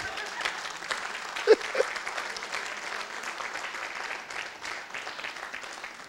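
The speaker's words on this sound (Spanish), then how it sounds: "Pero denle un aplauso al Señor que lo veo muy callado." A church congregation applauds in a steady, moderate patter that carries through the whole stretch, with a couple of louder thumps early on and no clear talk over it.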